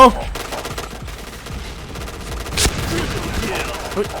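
Gunfire from a sniper rifle in PUBG, a sharp report standing out around the middle amid rapid, busy game combat noise and scattered shots.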